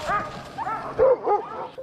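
Several sled dogs yip and bark eagerly in short overlapping bursts, close by and fairly loud, as a team strains to take off on a dog sled in Alaska.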